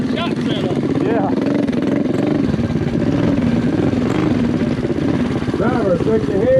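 A Monster Moto mini bike engine idling and revving at a drag racing event, a steady buzzing motor drone that wavers in pitch, with people talking over it.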